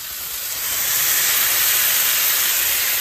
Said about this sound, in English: And then we get another frying pan and we press it right down like this.